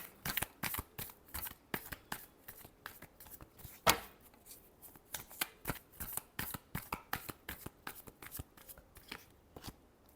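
Tarot cards are shuffled by hand in quick bursts of soft riffling slaps, close and quiet, with one sharper snap partway through and no speech.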